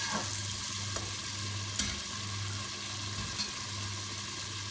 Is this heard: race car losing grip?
no